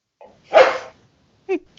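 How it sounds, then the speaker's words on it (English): A dog barks nearby during a relaxed indoor chat, one loud rough bark followed a second later by a shorter, higher yelp, with near silence between. "And there's a dog."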